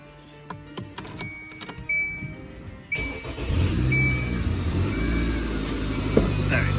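A dirty Kia Sorento work car cranks and its engine starts after an alternator pulley repair, settling into a steady near idle rumble after scattered clicks and knocks from the garage.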